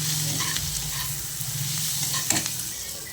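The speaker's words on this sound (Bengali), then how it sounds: "এখানে আমি চিংড়ি মাছগুলো দিয়ে" Prawns frying in oil with sautéed onion in a pan for a ridge gourd and prawn dish, a continuous close sizzle broken by scraping stirs of the spatula, with no talking.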